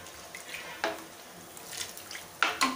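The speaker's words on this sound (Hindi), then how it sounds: "पानी में थोड़ा और डाल देती हूँ" Water poured into a pot of kofta curry on the stove, a splashing trickle with a couple of sharper bursts near the end, close and moderately loud, no talk.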